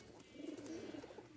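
Pigeons cooing softly and steadily at close range, a low, rolling coo with no other sounds.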